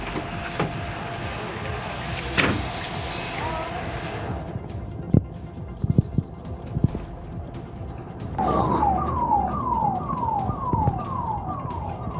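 An ambulance siren wails in a run of quick, repeating falling sweeps near the end, after a stretch of traffic noise and scattered clicks.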